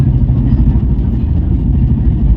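Car engines rumble low and steady in heavy road traffic jammed near a cricket match, with a continuous close drone and faint clattering.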